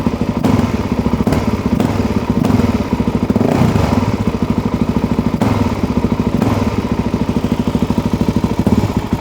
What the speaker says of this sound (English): We're just gonna kind of let this thing run for a minute. Let's give her a blip.